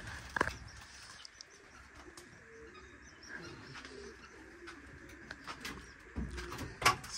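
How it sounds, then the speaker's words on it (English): Pigeons or doves coo repeatedly in a bird-filled roof space, soft layered calls with a few sharper chirps and a brief flutter near the end, all over a low background rumble. "we have a lot of birds here"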